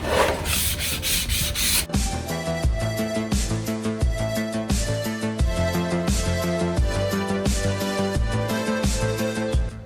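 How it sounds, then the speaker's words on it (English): A rusty car body, a Toyota AE86, is wet sanded by hand with sandpaper, making loud, close, steady rubbing strokes in a repeating back-and-forth rhythm. "Sandpaper keeps clogging up, so we're gonna wet sand."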